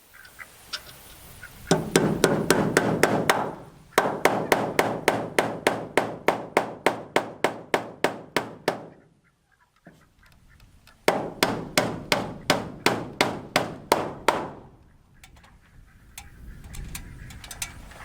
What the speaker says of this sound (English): drive these through with the hammer